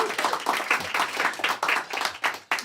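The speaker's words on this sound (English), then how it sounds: "That always solicits applause." A storytelling audience gives a brief round of applause, a few seconds of fairly sparse, uneven clapping that sounds moderately distant and soft, with no voices over it.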